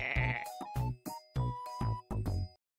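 A sheep bleats in five separate calls, each a wavering, nasal cry with short gaps between them, close and clear with nothing else around.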